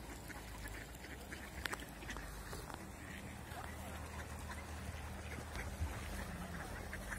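Several ducks, green-necked drakes and brown females, quack intermittently over a busy outdoor background at a spring, with people talking nearby and a splash of water now and then.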